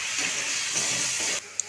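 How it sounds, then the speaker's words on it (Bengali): Eggplant going into hot oil alongside fried potatoes for a puti fish curry gives a constant close hiss of frying that drops away suddenly, followed by a single small click. "আলুগুলি ভাজা হয়ে গেছে, বেগুনগুলি দিয়ে দেবো।"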